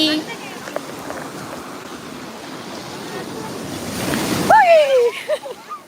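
Sea waves wash along the Thiruchendur seashore in a steady, rushing roar, with gusty wind buffeting the microphone. A short whistling tone cuts through near the end as the surf swells louder.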